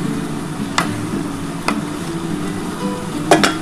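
Fish curry being stir-fried (kosha) in a pan, a low steady sizzle with a few sharp scrapes and clicks of the spatula, close and without talk.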